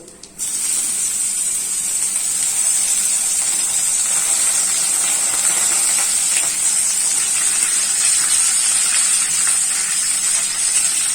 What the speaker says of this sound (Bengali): এবার আমি যে স্প্রিং অনিয়ন ছিল, স্প্রিং অনিয়ন হোয়াইটসটা দিয়ে দিচ্ছি।